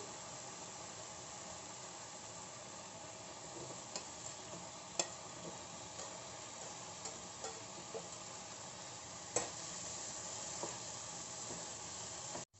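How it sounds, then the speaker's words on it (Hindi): Baby corn goes into fried masala and is stirred in a pan, giving a faint, steady sizzle with scattered soft clicks and scrapes from the spoon. "मसाला भून चुका है, इसमें से तेल भी सेपरेट हो गया है। अब इसमें बेबी कॉर्न डाल देंगे।"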